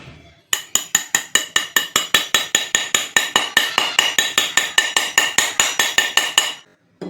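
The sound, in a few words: hammering a ceiling fan part into place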